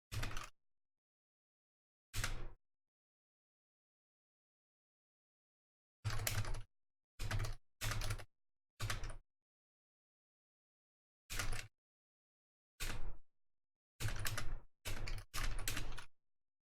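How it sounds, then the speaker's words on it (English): Computer keyboard typing comes in short clattering bursts separated by long silent gaps, the strokes close and crisp and clustering toward the end, with no voices. "You just have to get really good at typing, man"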